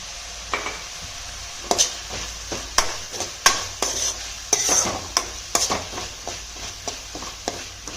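Avarekalu (field beans) with coriander leaves frying in a pan while a spoon stirs them, giving about a dozen sharp scraping strokes in an irregular rhythm over a quiet, continuous sizzle.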